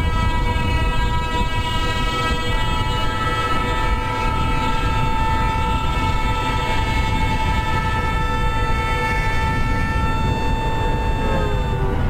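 A simulated Indian express passenger train, the Ganga Kaveri Express in the MSTS train simulator game, runs loudly and continuously, with a rumbling engine and a sustained, sharply pitched horn blast held over most of the passage.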